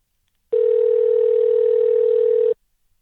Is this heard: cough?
no